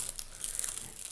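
Thin blue tissue paper tears and crinkles in a short, soft, close burst of papery rustling.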